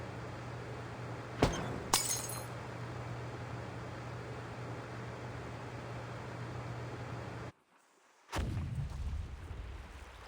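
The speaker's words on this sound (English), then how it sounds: "Sounds like some kind of explosion near the clinic." An explosion goes off near the clinic in the game Reverse: 1999. Two sharp blasts crack over a steady rumbling ambience, which then cuts out briefly before a heavy noisy surge returns.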